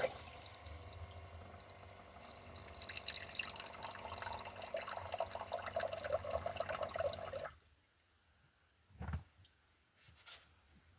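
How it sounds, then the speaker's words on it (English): A coffee maker trickles and drips coffee into its glass carafe, a steady watery patter for several seconds that then stops, leaving near silence with a couple of faint knocks. "there is some, looks like coffee coming out into the glass container"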